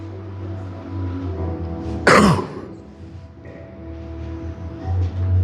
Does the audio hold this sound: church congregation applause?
no